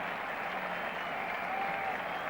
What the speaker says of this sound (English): So applause for ARLOTT establishing this new world record.